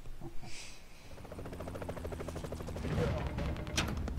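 Helicopter rotor chopping steadily in the game Broforce, mixed with bursts of gunfire and low rumbling, with a voice speaking briefly over it.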